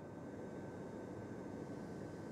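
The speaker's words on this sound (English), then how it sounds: "Hey, wait, is that a... drone?" A drone hovers in the video game Astral Chain, giving off a steady, even whirring drone that stays at a constant moderate level throughout, with no voices.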